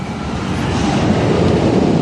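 An empty roller coaster train cycles along its track at Cedar Point, a steady broadband rumble and rattle holding at an even, fairly loud level for about two seconds, with no voices.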